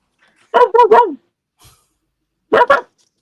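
A dog barks in two close bursts, three quick barks and then two more after a pause, loud and near against near silence.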